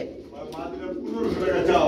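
A black velvet shield pigeon, a female, gives a low, soft coo close by while a person talks over it.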